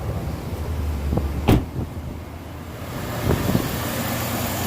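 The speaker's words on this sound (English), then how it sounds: "let's go back to the engine so you can hear how it sounds" A 2011 GMC Sierra 1500 pickup truck engine idles with a steady low rumble, broken by a couple of brief clunks and knocks nearby.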